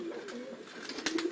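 A domestic pigeon gives a soft, low coo that rises briefly twice. It sounds quiet and close, over faint background noise.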